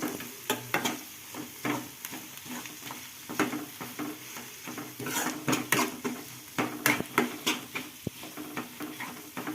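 A spoon stirs and scrapes through a pan of small bitter gourd fry in an irregular rhythm, with clinks against the metal over a soft, constant sizzle of frying and no talking.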